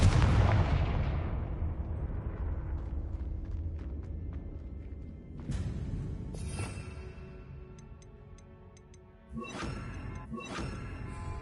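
Confringo spell blasts in the PS5 game Hogwarts Legacy, a loud booming explosion that fades slowly, followed by several sharper blasts and crackling impacts with ringing tails.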